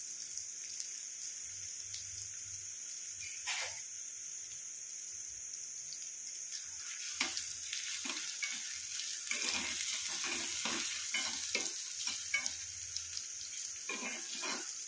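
Indian gooseberries (amla) fry in hot oil with a steady sizzle, while periodic scraping and stirring strokes break through the bubbling throughout, growing busier toward the end.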